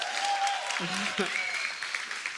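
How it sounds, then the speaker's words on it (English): A church congregation gives a round of applause, a dense wash of clapping with a voice and some cheering mixed in over it, moderately loud throughout. "Can we just give a round of applause for Jesus, y'all?"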